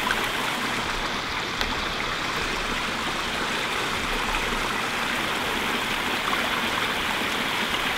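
Water runs steadily in a backyard pond, a continuous close rushing and splashing like a small stream or waterfall that stays even and loud throughout with no talk.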